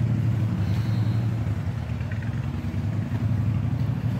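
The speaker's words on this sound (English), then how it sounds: "Minus that motorcycle sound," A steady low engine rumble drones throughout, like a motorcycle or car running nearby, with no clear change in loudness.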